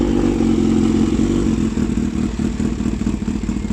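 Kawasaki Ninja H2 motorcycle engine idling just after starting, a loud, steady mechanical rumble with clattery texture and no revving, heard close up and alone.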